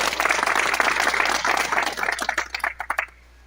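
People at an Ambazonian Independence Day celebration clap as a crowd, a loud rapid patter of many hands that breaks into a few separate claps before stopping abruptly.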